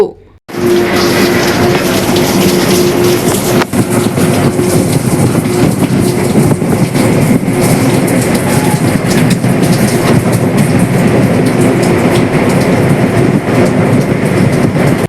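A train rumbles steadily with a constant clatter, while rain leaking through its roof makes a dense wash of dripping water throughout, loud and close.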